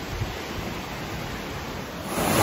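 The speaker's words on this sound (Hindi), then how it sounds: "पानी का फोर्स बहुत ही ज्यादा है." Rushing water at Bhivpuri waterfall near Mumbai, a dense, steady roar of forceful falling water heard close up, swelling slightly louder at the end, with no voices.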